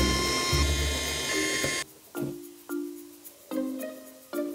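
Screws being backed out of the rear panel of a dusty mini PC, a whirring electric screwdriver burst followed by several short separate mechanical whines with pauses between, close and clear.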